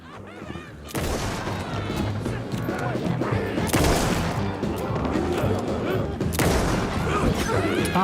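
Shots fire in a Remedy video game, a dense, loud burst of gunfire with crashing impacts that starts after a brief quiet moment and keeps going with surges, set against a busy game soundtrack.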